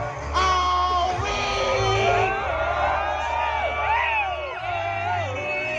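At the cherry blossom festival in Shillong, a dense crowd yells and whoops through a DJ set, sustained overlapping shouts swelling over a steady pounding bass beat.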